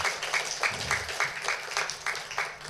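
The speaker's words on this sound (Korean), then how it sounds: "큰 박수로 하나님의 영광을 돌리겠습니다." Church congregation clapping during a Sunday morning worship service, a brisk, rhythmic round of applause with regular beats, fairly loud and close, without talk.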